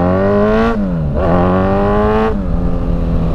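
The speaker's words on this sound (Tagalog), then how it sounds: "Pagka 1000cc 4 inline cylinder yung dala mong motor" A Kawasaki Z1000 with a 1000cc inline-four engine rides a mountain loop road in Albay, its smooth, close engine note rising through the revs, dipping at each of two gear changes, then climbing again.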